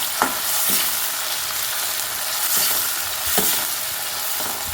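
Tomatoes frying with onions in a pan give a steady, bright sizzle, with a few soft stirring scrapes at intervals and no talking.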